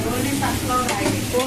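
Vegetable biryani cooked in oil in a large pot is stirred, with soft scraping and a gentle sizzle heard up close.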